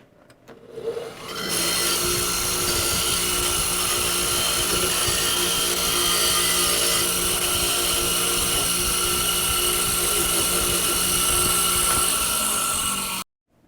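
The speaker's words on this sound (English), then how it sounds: "And wire wheel it." A wire wheel spins up and grinds steadily against a metal woodworking holdfast, a loud continuous abrasive whir lasting about twelve seconds before cutting off abruptly.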